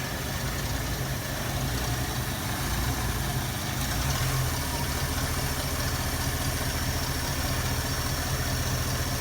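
A 1973 Ford Mustang with a 302 V8 and a 2100 two-barrel carburetor idles low and steady, a continuous rumbling drone heard up close without voices.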